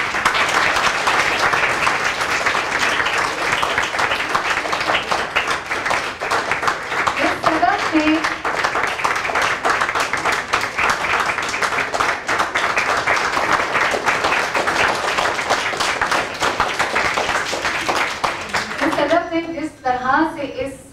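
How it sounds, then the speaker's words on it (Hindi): Loud, sustained applause from a crowd honoring students and their teacher at a school project presentation, dense clapping filling about eighteen seconds with a few voices rising briefly before it fades near the end. "तो इनके लिए जरा जोरदार तालियां दो।"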